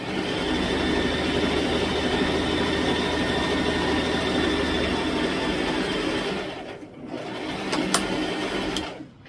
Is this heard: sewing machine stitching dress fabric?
yes